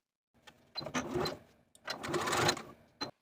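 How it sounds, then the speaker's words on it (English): A sewing machine bastes across the top edge of a dress pleat, running in two close, steady bursts of stitching separated by a short pause. No one speaks. "And then baste across the top edge to hold your pleat in place."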